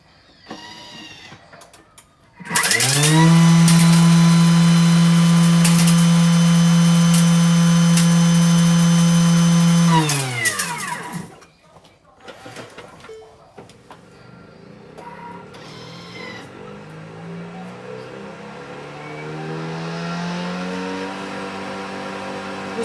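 Thermomix TM7 food processor running at speed 10: a loud, steady high-pitched motor whine that starts abruptly, holds for about eight seconds, then winds down, followed by quieter mechanical whirring.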